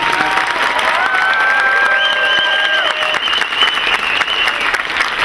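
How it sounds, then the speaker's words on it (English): Loud, steady applause from a convention panel audience at a horror fan event, with a crowd clapping continuously while several whistle-like tones ring over it. "would you please give a big round of applause for us."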